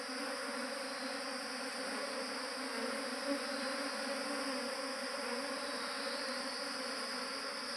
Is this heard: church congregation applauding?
no